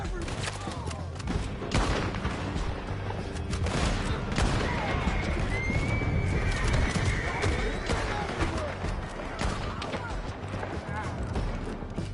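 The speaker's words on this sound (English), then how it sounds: "Men on horses!" Horses neigh and hooves clip-clop amid a fusillade of gunfire during a canyon chase in Red Dead Redemption II, with steady, dense action noise throughout and voices shouting over it.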